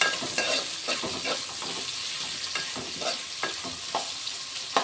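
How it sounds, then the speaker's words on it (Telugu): Carrot pieces frying in a pan with salt, a loud steady sizzle broken by repeated spatula scrapes and stirring clatters close by, no voices. "ఒక 2 నిమిషాలు ఫ్రై అవ్వాలి"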